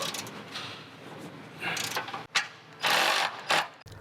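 Quick ratcheting clicks as a ratchet tightens 12 mm head OEM bolts on a bumper bracket of a 2021-2023 Subaru Crosstrek, several short bursts of clicking, fairly faint and close.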